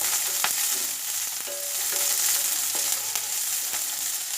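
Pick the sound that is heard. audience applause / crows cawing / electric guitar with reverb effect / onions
onions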